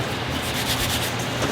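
Ash and black pepper seasoning rubbed by hand into meat for a barbecue cigar dinner, a steady close, continuous gritty rubbing and scraping with no talk.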